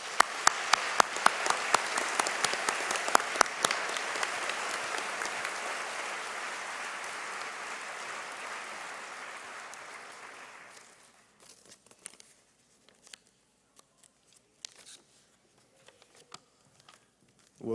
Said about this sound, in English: And now let's give them all a great round of applause